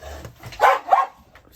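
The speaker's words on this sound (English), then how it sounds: "sorry for the dogs, excuse me." Dogs bark indoors during a paper-crafting session, two short loud barks close together in the middle of an otherwise quiet room.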